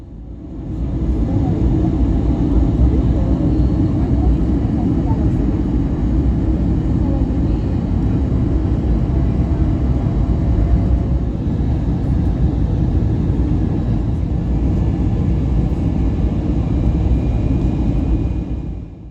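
Airliner cabin noise during the landing approach to runway 29 at Newark airport: a steady, loud low rumble of engines and airflow that holds constant throughout, with no clear talk above it.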